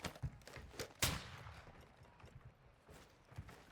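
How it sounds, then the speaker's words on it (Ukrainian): Bot gunfire in the video game Call of Duty DMZ: scattered faint shots with one sharper, louder crack, all fairly distant and quiet. "Та ще боти ці стріляють."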